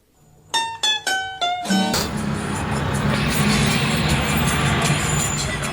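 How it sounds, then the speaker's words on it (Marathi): An Ola car moves through city traffic: a few short, tonal horn-like blasts, then a steady broadband road rumble of engines and passing vehicles that carries on to the end. "आपल्याला लागली ट्रॅफिक"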